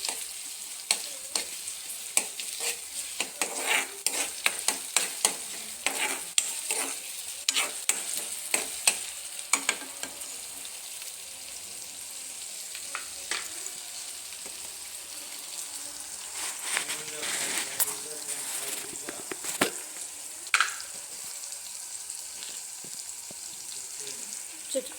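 Green chillies and ginger sizzle in hot oil in a pan as the base for a spicy fish curry. A steady hiss runs throughout, broken by repeated sharp scrapes and clinks from stirring.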